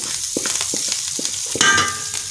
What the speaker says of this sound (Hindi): तो चलें जी, अब इसकी फ्राई शुरू करते हैं।